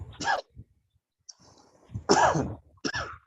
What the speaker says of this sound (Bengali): এই কাশছেন কে?